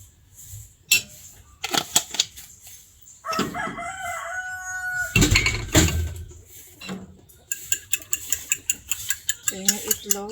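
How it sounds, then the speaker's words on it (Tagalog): Chickens and a rooster in a rural yard crow and cluck repeatedly, with a long cock-a-doodle-doo in the middle and a run of rhythmic clucks near the end, fairly close and clear with no talking. "Naririnig nyo yung mga huni ng mga manok."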